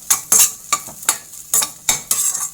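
Kara adai dough being fried in butter and stirred in a pan: quick, close scraping strokes of a spoon, about seven in a brisk uneven rhythm, over a soft sizzle, with no voices.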